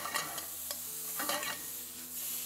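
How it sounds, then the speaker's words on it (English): Shrimp cook in a pan with oil, a quiet steady sizzle broken by a few scraping stirs and light utensil knocks, close and without talk. "them shrimp take about 2 minutes to cook"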